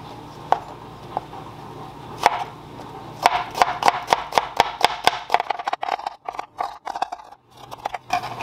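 A knife thinly slices bok choy on a cutting board, a few spaced taps giving way to a quick, even run of crisp chops close up.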